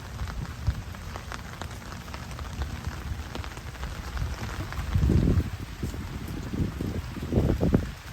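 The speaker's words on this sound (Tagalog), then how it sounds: "Ay, umuulan." Steady rain patters on a surface nearby, with heavier gusts of drops swelling and fading throughout.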